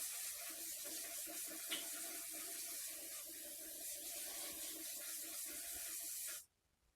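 A steady, close aerosol spray of engine degreaser into a BMW E30 differential hisses continuously for several seconds, then cuts off abruptly, leaving near silence.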